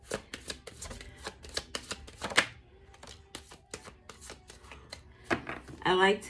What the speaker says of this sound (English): I like to shuffle them all to the end